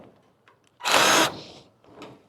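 A short, loud burst of a power tool whirring as it cuts through wire, lasting under a second, with quieter mechanical sounds before and after.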